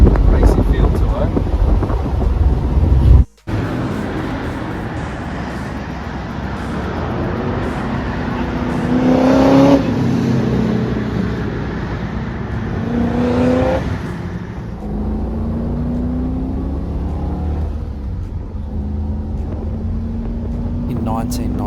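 A Holden VL Group A SV Walkinshaw drives steadily with a loud, continuous engine drone and wind rush, the pitch rising under acceleration and then settling, heard from inside the cabin.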